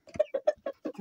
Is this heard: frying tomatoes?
no